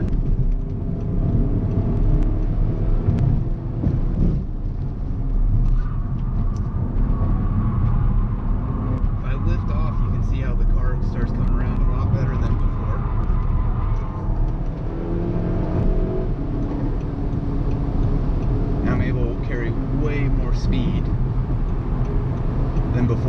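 A car on a test run after a rear sway bar upgrade rumbles steadily from inside, engine and road noise swelling and easing through acceleration and cornering, loud and continuous.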